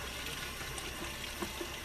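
Well water from the ground runs steadily from a tap, a continuous close splashing rush with a few small gurgles and no speech.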